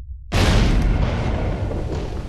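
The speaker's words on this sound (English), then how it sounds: "an explosion occurred." A sudden loud explosion on board a laden chemical tanker, with flammable gas in the room near the anchor cable, bursts in after a moment of quiet and rolls on as a dense, sustained roar.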